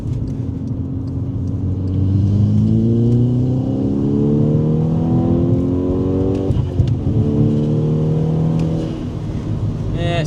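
A VW Scirocco R, its Miltek exhaust removed, drives with a loud engine note that rises and falls through several gear changes, stuttering and hesitating at each shift, with people talking over it throughout.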